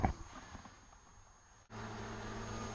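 Honeybees at an opened hive give off a faint, steady buzzing hum with a brief soft rustle near the midpoint, then a slightly fuller, continuous drone.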